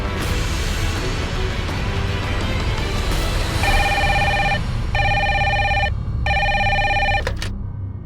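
A telephone rings with repeated bursts of a bright electronic ringtone partway through, standing out over a dense, steady background of music and noise from a Hindi crime drama scene.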